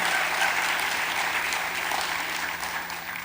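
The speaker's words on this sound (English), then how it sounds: "I think we should clap at that." An audience claps together in a short burst of steady applause at a talk about a vegan organization, moderately loud and even throughout with no voices over it.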